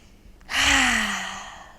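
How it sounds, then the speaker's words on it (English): One long, deep breath is drawn in and slowly let out, a close, breathy sigh that swells quickly and then fades over about a second. "Big deep breath."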